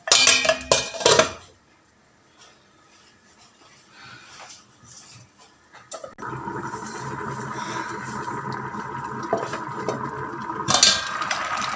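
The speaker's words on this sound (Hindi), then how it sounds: "उल्टे चम्मच से चावलों को मिक्स करना है।" A spoon clatters against a pot while rice for beef yakhni pulao is stirred, with sharp scraping knocks at the start, then a pause before a steady hiss of cooking over high flame.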